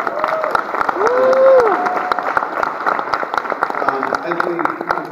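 A crowd at the Furry Migration 2016 opening ceremony claps steadily throughout, dense and close, with some cheering and a voice speaking over the applause.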